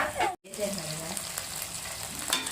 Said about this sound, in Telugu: అల్లం పేస్ట్ వేసుకొని దోరగా వేయించుకోవాలి